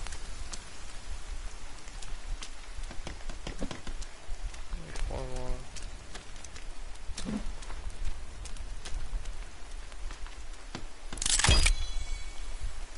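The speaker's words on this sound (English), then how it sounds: "Damn, why is it raining hard?" Heavy rain in the survival game The Forest hisses as a steady, dense downpour throughout, with scattered nearby taps and a brief louder rush near the end.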